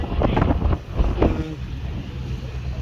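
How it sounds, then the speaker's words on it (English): Strong monsoon wind at sea on the Arabian Sea aboard a ship as the weather turns rough: loud, gusty buffeting and rumbling roar close to the microphone, surging in bursts over a few seconds with a steady whooshing underneath. "There is cloud in the sky and wind is increasing."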